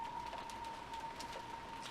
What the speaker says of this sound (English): Can't stand this rain